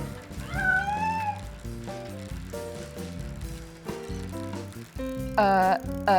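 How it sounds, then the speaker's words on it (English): A cat's meows rise and fall in short wavering cries over a busy bed of music, the last cries louder and more drawn out. "Look out for the cat!"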